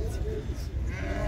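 Sheep bleating at a livestock market selling sheep and goats, a close wavering bleat with others in the background, mixed with people talking nearby.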